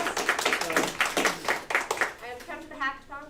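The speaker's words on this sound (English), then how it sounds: "Round of applause." A small audience at an entrepreneurship centre gives a round of applause, several distinct near claps in a loose rhythm for about two seconds, then a voice begins talking as the clapping stops.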